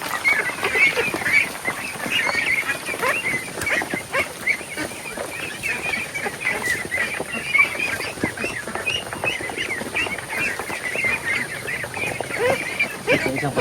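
A flock of ducks on a rural farm, constant busy quacking and honking close by, steady throughout with small louder peaks, mixed with faint background noise.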